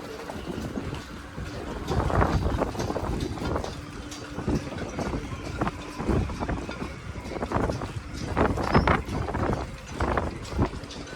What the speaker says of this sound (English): So we have about 20 to 25 knots southwesterly wind coming into the marina